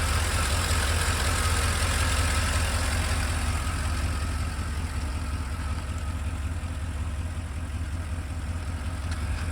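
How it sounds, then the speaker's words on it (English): An LS-swapped OBS pickup engine idles with Melling LS7-style lifters and a slightly noisy valve train, a steady low rumble with a faint ticking chatter, close and constant with no talk. "they're kind of LS7 style lifters, except Melling makes them. They're a little noisier, same with the valve train"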